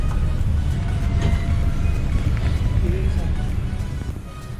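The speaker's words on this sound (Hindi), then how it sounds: "हम लोग चल चुके हैं अब न्यू दिल्ली रेलवे स्टेशन से" A Vande Bharat Express train runs after leaving New Delhi railway station, a loud continuous low rumble with rail clatter inside the carriage, steady throughout and easing slightly at the end.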